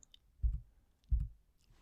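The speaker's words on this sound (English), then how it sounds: "we can use the up and down arrow keys" Up and down arrow keys on a computer keyboard are pressed twice, two soft dull clicks about two-thirds of a second apart, close to the microphone and with no talking.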